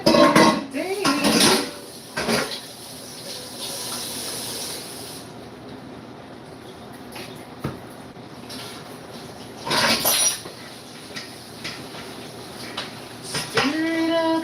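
Pots, dishes and cutlery clatter and scrape during washing up after cooking ackee, with running water hissing and a few louder clanks in a home kitchen; a voice briefly sings or talks in places.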